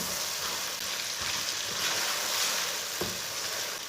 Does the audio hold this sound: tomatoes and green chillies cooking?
yes